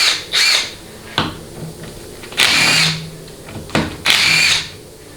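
Power tool driving out 13mm transmission pan bolts on a 4L60E, heard as three separate bursts of whirring, each set off by a sharp clack, close by with quiet shop noise in between.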